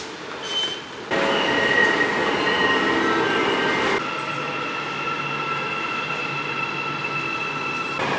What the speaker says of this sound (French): Là du coup on va aller prendre le métro pour retourner au logement.